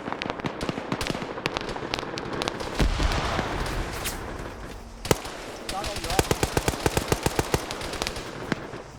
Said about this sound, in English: A lot of smoke screen pops.